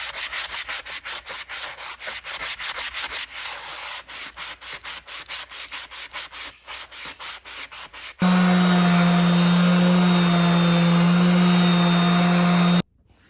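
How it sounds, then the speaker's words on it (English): A power sander works across a protruding cabin log, grinding in rapid, regular back-and-forth strokes for several seconds, then a louder continuous whine with a steady hum holds before cutting off abruptly. "I'm doing more sanding because this log was sticking out so far"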